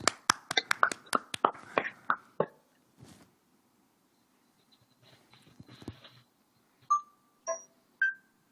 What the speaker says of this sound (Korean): 일단 박수부터 좀 칠까요? 다 같이.